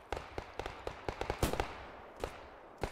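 Grenade blasts and gunfire-like cracks in a first-person shooter game: a string of sharp, irregular bangs with one heavier burst in the middle, fairly close and moderately loud.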